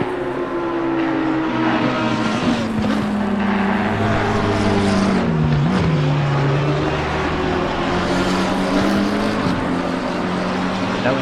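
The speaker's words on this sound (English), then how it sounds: "this Aston Martin may have the speed advantage over Restrepo's McLaren down the straightaways" Aston Martin and McLaren race cars in a racing video game at Misano, engines droning steadily with shifting pitch as they run down the straights, a continuous loud whine under a commentator's voice.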